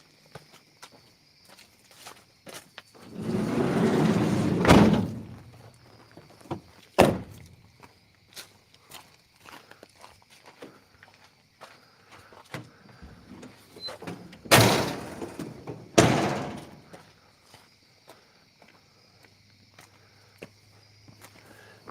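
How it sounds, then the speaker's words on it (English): Van doors close, first a long sliding rumble and then several sharp thunks and slams, with footsteps moving around and crickets chirping faintly in the night background. "I'm going to close the doors because I don't want to be sleeping with a bunch of bugs."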